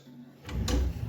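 A stapled cabinet drawer under a laminate countertop slides and bumps once, a short close wooden rumble in a quiet room.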